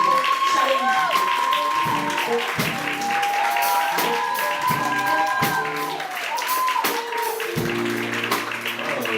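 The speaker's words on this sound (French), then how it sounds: "l'humoriste, l'artiste Eddie King, que je vous demande d'applaudir." An audience at a launch event claps for a comedian being welcomed on stage, the applause sustained and dense throughout, with voices and some tonal sound mixed underneath.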